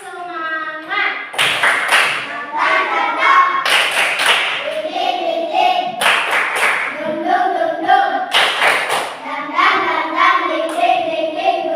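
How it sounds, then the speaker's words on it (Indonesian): A classroom of children does the 'tepuk semangat' clapping chant: several sharp bursts of synchronized hand claps at steady intervals, interleaved with loud chanted group voices, close by. "Tepuk semangat."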